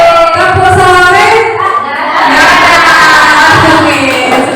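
A group of teachers at a school workshop performs a rhythmic clapping chant, with voices chanting together in sustained tones and a few soft clap thuds underneath, loud and continuous.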